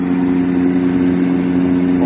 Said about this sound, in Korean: 위에 스위치를 왼쪽으로 돌렸을 때자 기계가 돌아갑니다